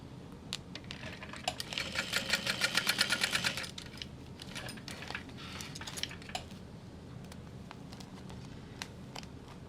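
A sewing machine bastes a panel into place on a bag. It gives a fast, close, rhythmic stitching burst of about two seconds, followed by sparse light clicks and handling noises.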